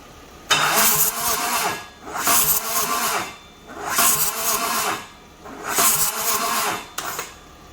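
An LLY Duramax diesel engine cranking weakly on the starter, four slow laboured cranking bursts separated by short pauses, close and loud, with no start.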